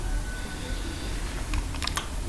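Keys clack on a computer keyboard in a brief burst of quick clicks over a steady background hiss.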